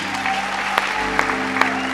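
A church gathering's audience claps steadily, a dense even patter of applause from many hands with a few sharper claps standing out.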